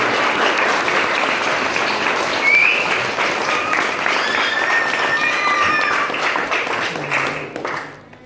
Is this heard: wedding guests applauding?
yes